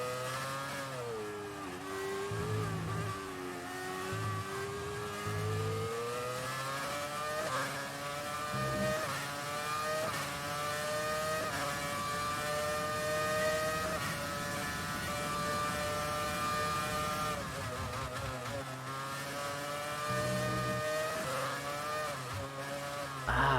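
Loud, sustained howl of a classic V8 Formula 1 car in the F1 2019 racing game, rising and falling repeatedly as it shifts up and brakes, with short low rumbles between the high-revving runs.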